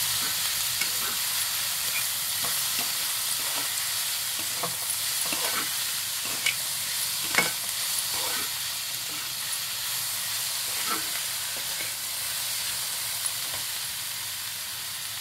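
Vegetables being stirred in a hot pan with turmeric and chili powder for a vegetable paddu dish, giving a steady sizzle and hiss under repeated spoon scrapes and taps, close and even, with no talking.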